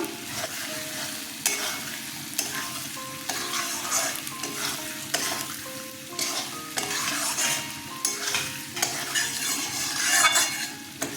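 Fried potatoes are stirred into a sizzling prawn curry in a pan, a steady close sizzle broken by repeated scraping strokes and light metallic clinks of a spoon against the pan, with no talking.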